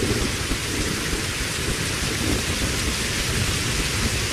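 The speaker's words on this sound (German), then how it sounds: "Es ist ein schauriger Regen" Heavy rain in the video game Reign of Kings pours down as a loud, dense and steady hiss with a low rumble beneath it, continuous throughout with no speech.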